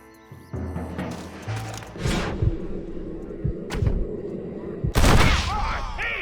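Gunfire in the Red Dead Redemption video game: a few sharp, loud shots ring out between thuds and scuffles, with a heavy final blast near the end, close and punchy against a low rumbling background.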